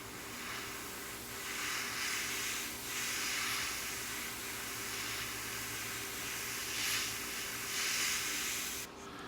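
Tamiya LP11 silver paint sprayed onto model propellers for a Tamiya P-38F Lightning kit, making a steady, close broadband hiss that swells gently in places over about nine seconds, with no talking.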